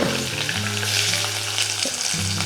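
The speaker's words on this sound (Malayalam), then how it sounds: "വെളുത്തുള്ളി 2ആയിട്ട് മുറിച്ചതാണ്, അതും നമുക്ക് ചേർത്ത് കൊടുക്കാം." Garlic cloves cut in half and curry leaves sizzle in hot oil with a steady, close, loud frying hiss and some stirring, while a tonal background hum runs underneath; no one speaks.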